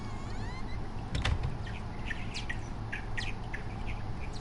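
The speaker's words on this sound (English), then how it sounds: "Alright, I hear birds." Birds chirping in the horror video game Home, scattered short high tweets over a steady low ambient hum, a small clunk near the start.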